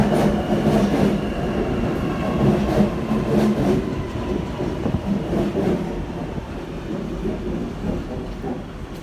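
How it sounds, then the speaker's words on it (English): A Sydney Trains terminating service pulls out of platform 2 at Chatswood toward the turnback, a close, loud rumbling roll of railcars with clattering wheels and occasional metallic squeals, steady throughout with no voices. "the terminating train departing platform 2, going into the turn back"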